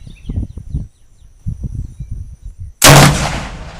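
A single loud, sharp Yugoslavian Mauser rifle shot at an outdoor shooting range, booming with a decaying echo, preceded by low rumbling handling noise and quiet ambience.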